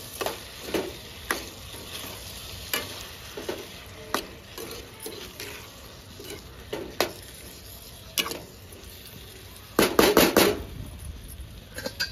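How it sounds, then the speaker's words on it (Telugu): A spoon stirs tomato curry in a hot pan, with repeated scraping strokes over a soft sizzle and a busier flurry of stirring near the end, no talking. "ఒకసారి మంచిగా కలిదిప్పుకొని మూత పెట్టుకుందామండి"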